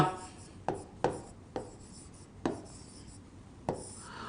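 Pen or chalk strokes writing a word by hand, a handful of short scratchy taps and scrapes spaced irregularly, close and fairly quiet with no voice.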